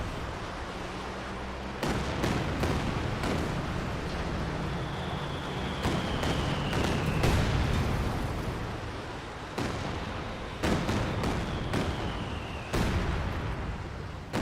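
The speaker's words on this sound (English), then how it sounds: "Now he's just using a creeping barrage" Creeping artillery barrage in the WWII strategy game Company of Heroes 2: a run of heavy shell blasts lands at uneven intervals over a rumbling battlefield bed, with a whistling incoming round partway through.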